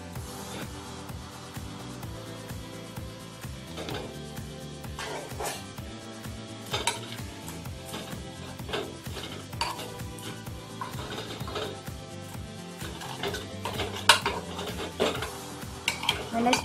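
A spoon scraping and clinking around a pot of chole cooking with spices and tamarind, repeated close stirring knocks and scrapes over a sizzling background, with music-like tonal sound running underneath.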